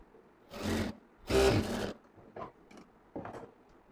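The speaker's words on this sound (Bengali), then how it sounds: "চাপ সেলাই দিয়ে নিচ্ছি বন্ধুগণ, সুন্দর করে চাপ সেলাই দিয়ে নেবেন" A sewing machine top-stitches a seam along fabric, the motor whirring in two longer bursts and then a few short, quieter runs, close by, with no talking.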